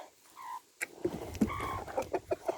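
Chickens in a garden cluck in a rapid series of short, close calls, some rising into squawks, with scratchy rustling in between.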